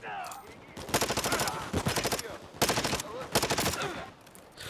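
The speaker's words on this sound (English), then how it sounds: "Had to reload, so I'm gonna use my other gun." Rapid automatic gunfire in the video game Modern Warfare 3, loud sustained bursts of shots with short gaps between them, close and dominant, with a few quiet moments in between.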